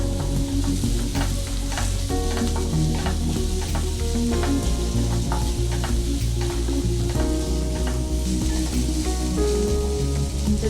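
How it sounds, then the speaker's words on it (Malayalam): Crushed ginger, garlic and two green chilies sauté in a pan with a loud, continuous sizzle, while a spoon scrapes and stirs through it in repeated close strokes. "ഇഞ്ചിയും വെളുത്തുള്ളിയും കൂടെ ചതച്ചതാണ് രണ്ട് പച്ചമുളക് നല്ലോണം ഇതൊന്ന് വഴറ്റിയെടുക്കുക"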